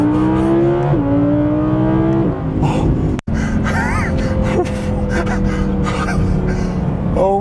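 A 2017 Audi R8 V10 Plus accelerates hard at speed, its engine note climbing through gears in loud rising harmonic sweeps with brief shift breaks, heard from inside the car with occasional gasping voices.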